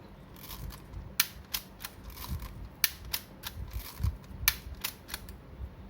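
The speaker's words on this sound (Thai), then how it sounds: "กดชัตเตอร์กดลงให้สุดนะครับ" Repeated sharp mechanical clicks of a Minolta Hi-Matic 7S film camera shutter and the ratcheting of film being advanced, over steady background noise.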